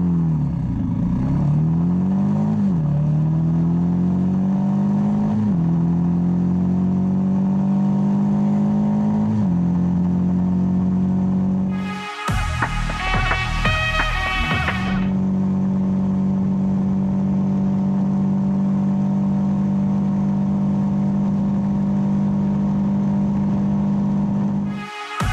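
A 2021 Royal Enfield Himalayan motorcycle accelerates from 0 to 100, its loud engine revving steadily upward through the gears, pitch climbing and dropping with each shift, then holding a high sustained drone to the end.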